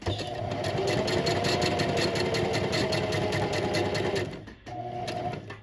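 A sewing machine stitching a slouchy tote bag runs in a steady, rapid mechanical whir at close range, pauses briefly near the end, then starts again for a short stretch of stitching.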